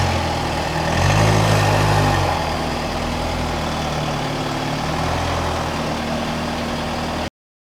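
A Seat Leon FR with a starting fault idles after a jump start, a steady low engine hum that swells briefly near the start and then settles into an even idle before cutting off.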